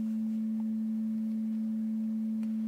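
A synthesizer plays a pure sine wave tone, a single steady low hum held unchanged throughout, loud and alone over faint background hiss.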